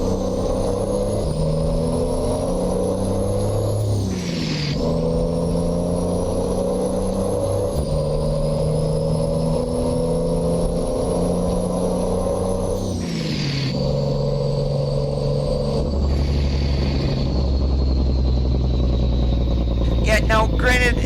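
A truck engine with an Eaton Fuller Super 10 transmission drones steadily and revs through several gear shifts in American Truck Simulator, the pitch climbing and dropping, continuous and close with no pauses.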